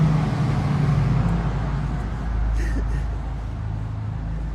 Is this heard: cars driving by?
yes